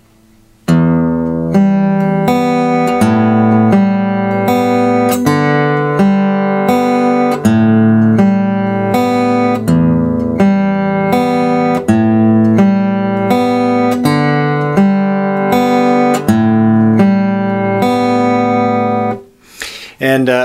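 Fingerpicked acoustic guitar arpeggio in 3/4, played thumb, index, middle with one note per beat, moving steadily through chord changes at close range for about twenty seconds with no talking.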